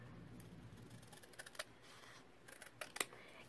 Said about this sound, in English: I'm going to go ahead and cut the top off.